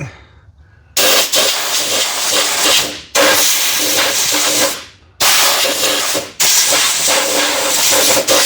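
Three long, loud bursts of compressed air hiss into the bolt holes of a 1961 Corvair Rampside front shock mount, each lasting about two seconds, with short pauses between them.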